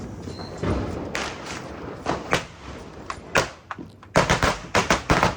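Diwali firecrackers burst around a city in Hoshiarpur, a series of sharp, loud bangs at irregular intervals, some nearer and some distant, ending in a quick cluster of pops.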